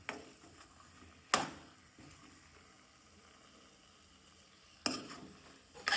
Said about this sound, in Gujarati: તો આ રીતના આપણે કણસી વડે હલાવતા જ રહીશું ધીમા તાપમાને